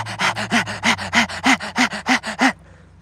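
People pant like a dog, imitating it with a rapid run of about twelve loud, rhythmic breathy huffs close to the microphone, then stopping abruptly into near silence.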